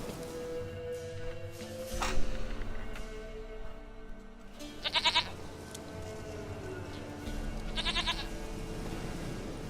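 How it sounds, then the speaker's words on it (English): A goat in The Witcher 3 bleats several times, short nasal calls over a soft game ambience, with a pair of louder, closer bleats standing out. "Goat of mine, dearest, sweetest goat."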